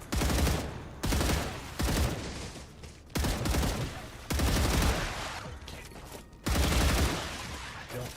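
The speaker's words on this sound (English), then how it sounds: "It's like they're literally launching mortars at me." Enemy mortar fire in the sci-fi factory-building game StarRupture: bursts of loud, booming explosive volleys land one after another in repeated barrages, each blast trailing off before the next hits.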